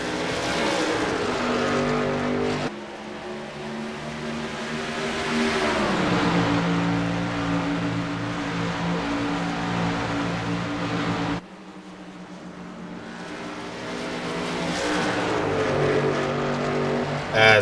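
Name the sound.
race cars racing at Phoenix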